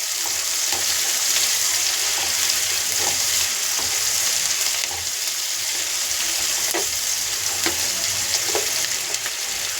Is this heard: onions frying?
yes